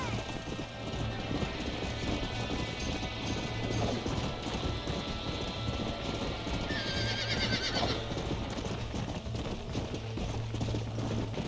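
Galloping hooves and a stallion's neighing in the Red Dead Redemption video game, a steady loud clatter of hoofbeats running throughout with a high whinny near the end and faint game voices mixed in.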